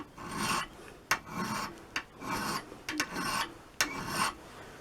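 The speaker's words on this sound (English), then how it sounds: "just kind of basically filing that down and sharpening that cutting edge." Hand file rasping along the cutting edge of a spade drill bit, five or six rhythmic strokes close up, each separated by a short knock or clink, no voices.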